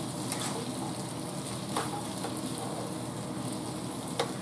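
Beef browning in a pan for a crockpot beef stew, dusted with flour and forming a light gravy, giving a steady broadband sizzle with occasional soft scrapes of stirring, close and continuous with no talking.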